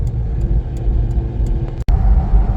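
A Nissan R50 Pathfinder's VQ engine idles through a used junkyard muffler from a Q4, a steady, low rumbling burble, close and continuous, broken by one brief dropout near the end.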